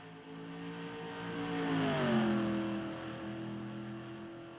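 Toyota stock race car on a racetrack at Atlanta: an engine drone builds, peaks with a pitch drop as the car passes, then fades, with a steady background roar.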